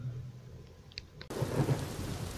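A heavy thunderstorm with abundant lightning and downpour: a low rumble of thunder gives way to a sudden loud wash of dense rain hiss with scattered drops and crackles, no voices.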